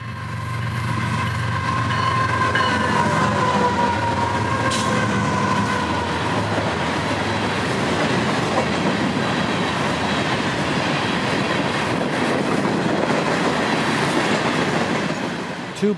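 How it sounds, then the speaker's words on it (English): A freight train led by ES44 locomotives rolls past nearby, steady low rumble of the engines giving way to continuous clickety-clack of wheels over rail joints and a faint high squeal, loud and sustained throughout. "southbound freight number 101, now on the East Main and receiving signals once 720 was by"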